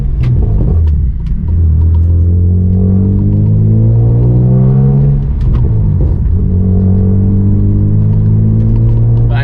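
A BMW M235i engine droning at low revs while driving slowly, its steady rumble rising and falling gently through shifting tones, loud and close throughout.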